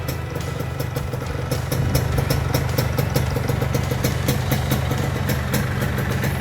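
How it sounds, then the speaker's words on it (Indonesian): A 1982 Yamaha RX King motorcycle in good condition, with a Y1 block at zero oversize, idles with a smooth, steady, close engine rumble and rapid exhaust pulses, loud and continuous with no talking. "Masih halus sekali suara mesinnya."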